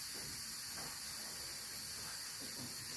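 Steam hisses steadily from the pressure valve of a cooking pot while scouse cooks, a constant bright airy rush that holds unchanged throughout at moderate level with no talk.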